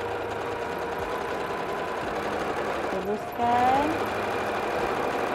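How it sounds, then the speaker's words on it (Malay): Sewing machine back-tacking stitches on a batik tote bag, a loud continuous close motor hum that shifts pitch as it reverses, with a brief spoken word over it. "Back tab tu ulang-alik ulang-alik jahitan supaya dia mati."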